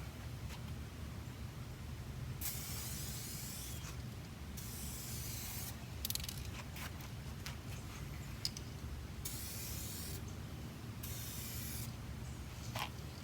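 A light first coat of car clearcoat goes on in several short, hissing spray-gun bursts, fairly quiet and steady against a low background rumble, with no voices.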